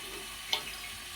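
Water from a newly fitted toilet fill valve trickles steadily into the cistern overflow, a soft continuous running sound with one brief faint splash partway through, close and quiet with no talking.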